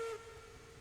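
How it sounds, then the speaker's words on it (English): A steam locomotive whistle in the train game Railroads Online gives one short, fairly loud blast that cuts off quickly, leaving a soft hiss and low rumble behind it. "I heard a whistle."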